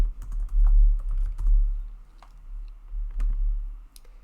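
Someone types an answer on a computer keyboard, and steady clicking keystrokes run through the whole stretch over a low background hum. No one speaks.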